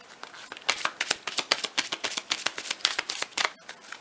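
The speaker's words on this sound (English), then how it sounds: "Now, we would like to shuffle the deck quickly," Rapid riffling bursts of a card deck being shuffled, a quick series of crisp, close flutters and snaps for several seconds.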